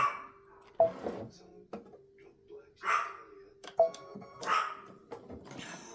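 A dog barks in short, sharp bursts indoors, several separate woofs spaced irregularly and fairly close, with quiet gaps between them.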